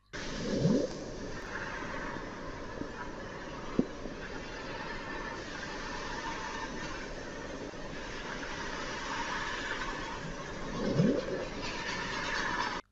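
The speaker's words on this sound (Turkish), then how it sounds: "Blob aslında Kutulu'nun çağrısı değil, Antarktika'dan kopan dev buz parçalarının sesi" Steady underwater rumbling and hiss with two low, groaning rises, picked up by hydrophones: giant icebergs breaking off Antarctica far away.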